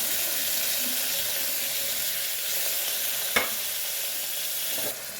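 Onions with turmeric frying in a pan give a loud, even, continuous sizzle, with one brief clink of a utensil partway through.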